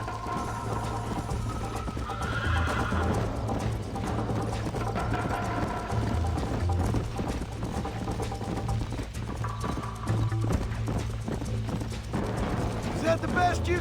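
Hooves clip-clop in a steady galloping rhythm from a horse in the Western video game Red Dead Redemption, continuous and fairly close, with game music and talk layered over it.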